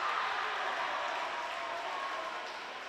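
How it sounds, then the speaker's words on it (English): A crowd in a gym cheers and applauds at a high school volleyball match, a steady wash of noise that holds at an even level and eases slightly toward the end, heard from some distance. "the cheer you heard, the extra cheer, was for the return of Ashley Zaulichny"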